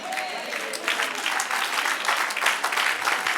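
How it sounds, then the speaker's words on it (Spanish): A church congregation claps together during a doctrine class, sustained dense applause filling the room at even volume, with a faint voice briefly underneath at the start. "Dale un aplauso, Señor"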